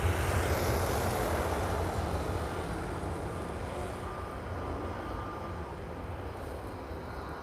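Norwegian airliner with a red nose and blue tail taking off at Lisbon Airport, a loud continuous jet roar with broad rumble that holds steady and slowly eases over several seconds, no voices.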